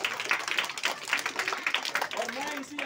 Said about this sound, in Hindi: जोरदार तालियां आप प्यारे बच्चों के लिए